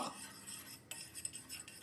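Fenugreek seeds dry-roasting in a pan for amla pickle, stirred with a spoon: faint, soft scraping and light clinks with a brief sharper tap, steady and close throughout.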